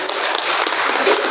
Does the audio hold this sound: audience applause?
yes